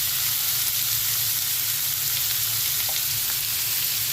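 Pumpkin pieces frying in a pan make a dense, constant hiss and crackle, loud and close, with no pauses and no talk over it.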